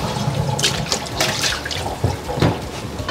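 Water splashes and sloshes in a sink as a warm pan is set into warm water to cool after induction cooktop heating, close up, short irregular bursts.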